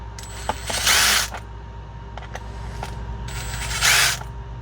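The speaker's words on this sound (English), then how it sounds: "Gotta get the old Makita. It just makes it a little faster." A Makita power tool backs screws out of an Arrma Kraton 6S RC car during a rebuild, giving two short whirring bursts about three seconds apart with light mechanical clicks between them.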